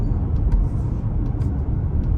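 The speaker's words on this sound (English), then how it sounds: "Throw it back into sport for one more acceleration." A 2024 Acura MDX A-Spec SUV accelerating in sport mode, a steady low engine drone and road rumble heard from inside the cabin, loud and continuous.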